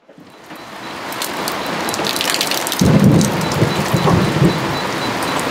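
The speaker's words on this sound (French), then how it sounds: "mis dans l'orage. Il y a des éclairs partout. Il pleut." Steady rain pours down on a sailboat at sea, with low rumbling thunder rolling in partway through, loud and close, with no voices.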